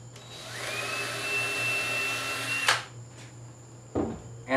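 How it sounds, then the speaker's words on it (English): A power drill whines steadily for a few seconds while drilling into wood, then stops, followed by a couple of clunks and knocks. "And I'm just drilling at an angle."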